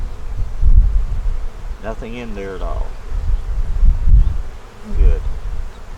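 Bees buzz loudly and close around a hive frame in a steady drone, with muffled handling bumps and someone speaking briefly over them.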